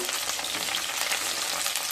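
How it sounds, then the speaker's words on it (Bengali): Cut capsicum pieces fry in a pan with a dense, close, continuous sizzle and crackle, steady throughout and free of speech. "এবার কেটে রাখা ক্যাপসিকাম গুলোকে ভেজে নেব।"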